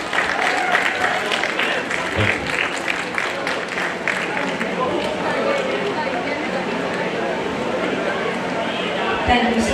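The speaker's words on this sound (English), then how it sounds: "May I have a big round of applause, students?" Students at a degree college graduation day ceremony clap in a continuous, fairly loud round of applause, with crowd murmur and voices running under the clapping throughout.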